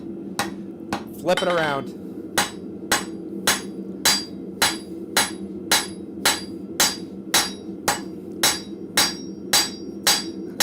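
A blacksmith's hammer strikes hot metal on an anvil in a forge shop, about twenty sharp, ringing blows in a steady rhythm, loud and close, with a brief spoken remark near the start.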